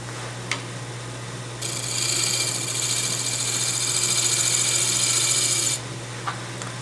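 A wood lathe spins a madrone hollow form at about 1,000 RPM while a scraper moves slowly across the wood, giving a loud steady hiss of cutting for several seconds between quieter motor hum.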